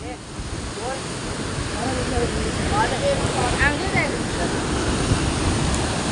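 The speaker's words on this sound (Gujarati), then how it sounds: "આવા મોજા મેં કોઈ દી ને જોયા કેવા મોજા ઉછળે" Rough sea waves surge and crash during a storm, a continuous broadband wash of surf with wind noise, while voices chatter and exclaim over it.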